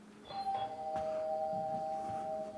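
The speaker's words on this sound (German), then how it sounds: "es klingelt an der Tür." A doorbell rings indoors with a clear, sustained electronic chime that sounds once and rings on steadily, fairly faint, with no one speaking.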